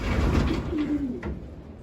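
Young racing pigeons in a settling cage give soft, close, throaty coos in a short run on a warm day, with no talk.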